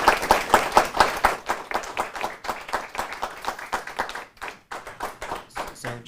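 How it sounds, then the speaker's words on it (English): A seminar audience gives a round of applause for the speaker, brisk clapping from a modest indoor crowd, strong at first then thinning into scattered claps before a brief pause and a last few hands. "let's go ahead and give Elizabeth another round of applause"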